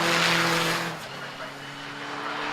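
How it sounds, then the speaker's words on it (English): Saker sportscars racing at Brands Hatch on the final lap, a loud engine roar close by that shifts pitch as a car passes and fades slightly, with a commentator talking over it. "Paul Rose takes the checkered flag and wins the Saker race here at Brands Hatch."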